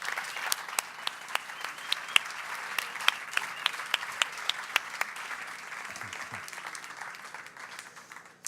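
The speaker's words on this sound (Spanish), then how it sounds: "Un aplauso para Miquel Pagadi-Bouls." Audience applause at a symposium lecture, fairly distant and soft, steady clapping with a few sharper individual claps standing out, fading gradually toward the end.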